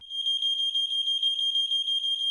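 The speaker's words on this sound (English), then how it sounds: "I added this fire alarm sound because the guy burnt his bagel." Fire alarm sound effect, a loud, continuous high-pitched electronic beeping tone with a fast warble, steady for the whole stretch with nothing else heard.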